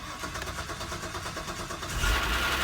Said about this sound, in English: look at that, crank right up, crank right up.